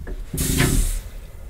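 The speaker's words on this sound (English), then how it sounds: "I do have water running in the caravan through both taps and the shower" Water runs from taps inside a caravan, a steady hissing gush that starts abruptly, holds for about half a second, then cuts back to a quieter trickle, close and alone without talk.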